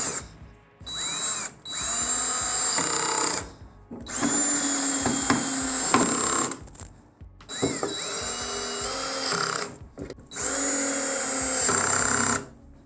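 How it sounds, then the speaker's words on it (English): A power drill drives screws in four sustained bursts, each a few seconds long with short pauses between, loud and close, the pitch dipping as screws tighten while mounting a TV. "And then you want to get your drill."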